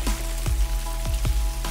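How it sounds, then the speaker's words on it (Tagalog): Rain falling on a vegetable garden with squash plants after a heavy downpour, a steady close patter with scattered louder drips against a constant low rumble. "Ayan, ulan."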